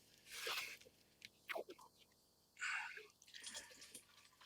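Used 62TE transmission fluid from a RAM Promaster is poured off into a container, giving intermittent splashing, dripping bursts separated by quiet gaps; close and fairly faint, with no talk.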